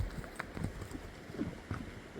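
Hooves of a running horse at a Teke ulak event clip-clop in a quick, uneven rhythm, moderately close amid faint outdoor background.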